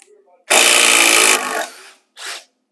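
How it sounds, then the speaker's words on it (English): A Hilti Nuron SID 6-22 cordless impact driver sinks a 4-inch structural screw in one loud, dense burst of under a second, winding down briefly before a short second burst that sets the screw. "We're gonna see how quickly this impact driver drives."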